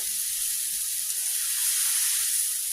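Food frying in a pan on a turned-up burner, a steady, even sizzling hiss that holds unbroken throughout at close range with no voices.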